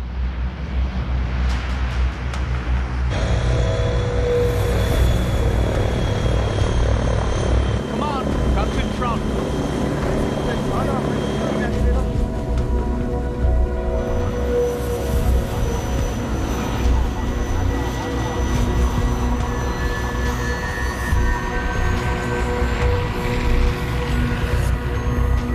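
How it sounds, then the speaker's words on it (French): A propeller aircraft flies over Antarctica, its steady engine drone and droning harmonics running continuously and fairly loud throughout, with a second engine tone shifting partway through. "Les deux derniers avions disponibles en Antarctique viennent nous chercher."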